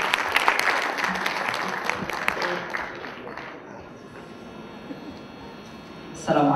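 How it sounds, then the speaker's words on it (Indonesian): An audience at a Palestine solidarity literary event breaks into loud applause that thins and fades after a few seconds, with a brief burst of sound at the very end. "Kita berikan tepuk tangan yang meriah."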